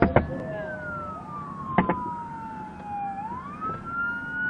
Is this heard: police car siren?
yes